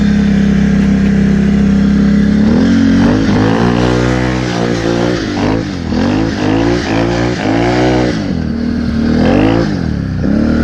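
A Can-Am Renegade 1000 ATV on Interco Interforce 2 tires roars past close by, its engine revving hard in repeated rising surges that climb and fall over about eight seconds, loud throughout with no talk.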